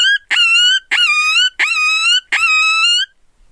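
Four high, wavering wails in a row from a predator hand call imitating a coyote pup in distress, each a drawn-out yelping cry with brief gaps, loud and close.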